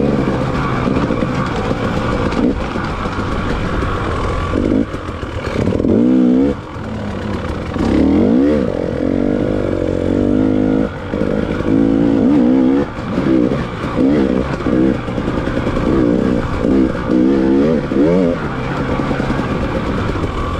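A dirt bike with a worn Shinko front tire is ridden along a trail. The engine drones loudly and continuously, rising and falling in pitch as the throttle and gears change, with no talking.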